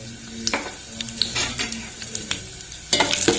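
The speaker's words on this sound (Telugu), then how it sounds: "ఇప్పుడు పోపు గింజలు వేద్దాం." Mustard-type tempering seeds crackle and sizzle in hot oil, a continuous frying hiss with repeated spoon scrapes and clanks as the pan is stirred, louder bursts near the end.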